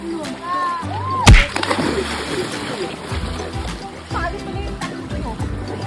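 People jumping off a boat into the sea off the Maldives make a sharp splash, followed by lighter sloshing water while excited voices talk and shout nearby.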